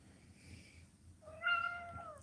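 A cat gives a single clear, rising-and-falling meow close by, following a fainter earlier mew over a low background hum.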